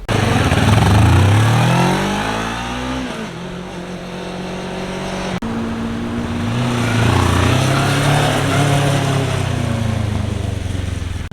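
A Kawasaki Ninja 650 motorcycle is ridden on the road, its engine loud and close, revving up through the gears, dropping off on a shift, then climbing again with rushing wind behind it.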